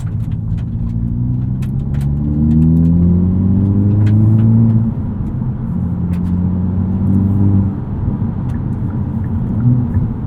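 Engine of a 2022 Hyundai Elantra N with a manual gearbox, driven hard on a track: a loud, close, steady low drone with rising rev sweeps and brief gear-change dips, no talking.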